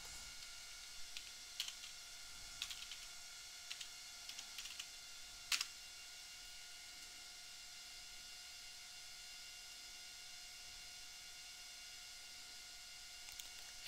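Soft keyboard typing on a computer as a password is entered, a few short irregular bursts of quiet clicks over a steady faint electronic hum, no voices.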